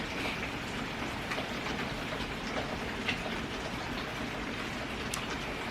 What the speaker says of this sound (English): This is like a pretty steady rain that's coming down.